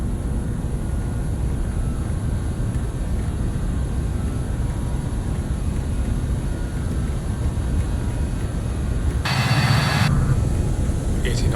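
Avro RJ85 jet engines at takeoff thrust in Microsoft Flight Simulator, a loud, steady, broadband roar holding without a break, with a short high-pitched electronic tone briefly appearing near the end.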